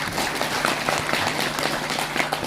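An Indonesian church congregation claps in praise of Jesus at a regional church gathering, producing a steady wash of applause throughout.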